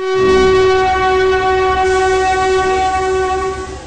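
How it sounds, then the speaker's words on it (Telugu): A train stands at a railway station about to depart, its loud sustained horn tone ringing steadily over a deep rumble of idling carriages for several seconds before easing slightly. "ట్రైన్ కదలడానికి రెడీగా ఉంది."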